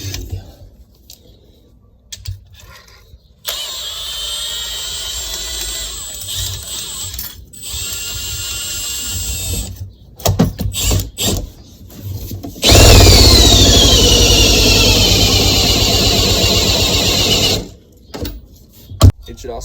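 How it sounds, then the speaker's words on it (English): A malfunctioning power drill whirs loudly in two long runs with a high whine while fitting suspension lift spacers, separated by clicks, clatter and handling noise. "something's wrong with this drill"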